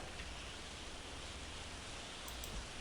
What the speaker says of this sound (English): And by the sound of this, this is heavy rain.